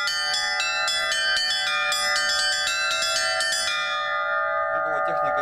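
Church bells cast by the Litex foundry in Moscow and the Shuvalov foundry in Tutaev are rung in a quick, bright pattern of overlapping strikes, with long sustained tones ringing out as the strikes stop near the end.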